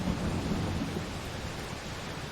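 A thunder and rain storm in the video game The Solus Project VR, with a deep rolling rumble of thunder under a steady wash of heavy rain, constant and fairly loud with no voices.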